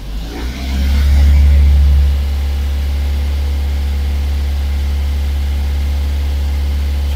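A car engine revs up hard for about a second to warm the coolant, a loud rising roar that falls back to a deep, steady, close idle hum for the remaining seconds.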